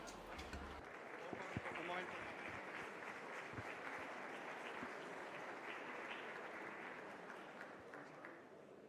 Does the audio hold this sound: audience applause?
yes